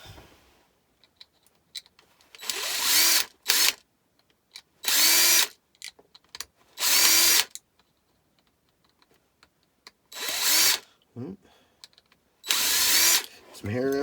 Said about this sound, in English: Grab drill.